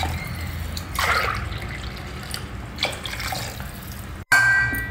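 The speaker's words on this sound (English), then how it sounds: "Now I'll add in 3 cups of water." Water is poured into a pot for one-pot sambar rice, a soft steady trickle with a few brief splashy surges, close by over a constant low background hum, without talk.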